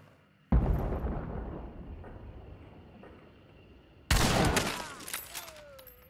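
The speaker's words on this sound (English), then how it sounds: "somebody's shooting from that way" Two loud gunshot blasts in Hunt: Showdown, each with a long rolling echo that fades across open terrain, separated by a few seconds of quiet ambience.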